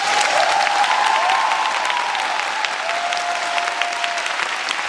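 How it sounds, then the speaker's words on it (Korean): A theater audience gives loud, sustained applause to the cast after a changgeuk performance of The Merchants of Venice, at a post-show talk. The clapping is dense and continuous throughout. "배우님들께 아까 들어올 때보다 더 큰 박수 좀 부탁드립니다."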